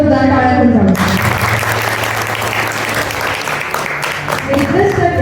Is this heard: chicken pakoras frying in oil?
no